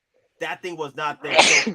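Someone talks briefly, then lets out one loud, close sneeze that bursts out and trails off at the end.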